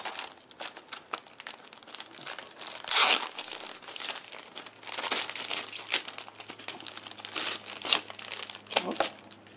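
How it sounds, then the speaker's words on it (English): Packaging for a Samsung Acclaim smartphone with a QWERTY keyboard crinkles and rustles as the box is opened, with close, irregular crumpling and tearing of paper and plastic and a few sharper rips, and no voices. "So let's open up the box and see what's inside."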